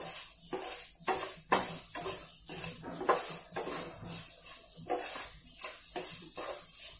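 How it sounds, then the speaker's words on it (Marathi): Almonds and raisins roasting in a pan, with a soft sizzle under repeated rhythmic scrapes and clinks of a spoon stirring against the metal, close and moderately quiet. "मी आता त्याच्यामध्ये ड्रायफ्रुट्स टाकत आहे, थोडेसे बदाम आणि थोडेसे मनुका, थोडेच मी भाजून घेत आहे"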